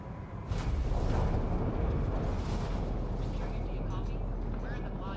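Mass Effect spacecraft entering a planet's atmosphere: a steady, loud, broad rumble that swells suddenly and then roars on without a break, while voices speak over it.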